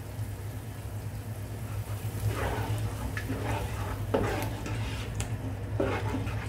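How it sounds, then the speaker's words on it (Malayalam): A pot of masala water for fried chicken biryani bubbles and rolls at a steady boil, with a constant low rumble and occasional louder gurgles and stirring scrapes, close and without talk. "നന്നായിട്ട് നമ്മുടെ വെള്ളം നന്നായിട്ട് തിളച്ച് വന്നിട്ടുണ്ട്"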